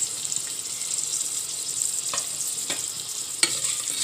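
Dried chillies and onion being stir-fried for sambal tumis, giving a continuous bright sizzle throughout, with a few soft scrapes of the utensil against the pan.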